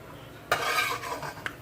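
A metal spoon scoops fried pholourie from a pot of hot oil, a sharp scrape and clink followed by a short rattling scrape and a second light clink, close and clear with no talking.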